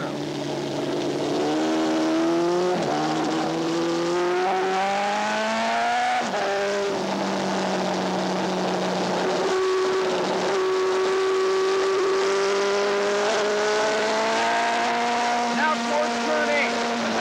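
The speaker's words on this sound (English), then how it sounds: "Now I'm accelerating hard up the back hill." A superbike at Laguna Seca accelerates hard, its engine climbing through gears with a rising roar and shift breaks, then braking and revving again, loud and close throughout, with a voice speaking over it.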